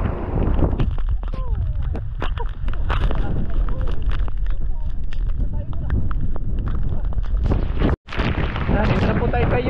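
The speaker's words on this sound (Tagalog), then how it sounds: "ang lakas po ng ulan at hangin" Heavy rain and strong wind roaring steadily through a roadside scene, the wash dense and continuous with wind buffeting the microphone, and a brief dropout near the end.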